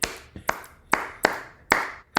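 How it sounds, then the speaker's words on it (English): Hands clapping alone in a deliberate, evenly spaced rhythm, five or six sharp close claps with clear gaps of silence between them. "now this clap has purpose"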